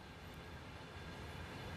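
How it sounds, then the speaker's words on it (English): A loud train in the Train Sim World 2 video game, a steady dense rumble with broadband roar filling the whole stretch, close and continuous with no talk. "Man, that was a loud train, wasn't it?"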